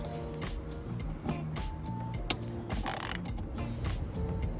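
A 14mm seat belt bolt is loosened with a ratchet inside a Toyota MR2, giving steady mechanical clicking and metallic ratcheting close by, with a few sharper clanks of tool on metal.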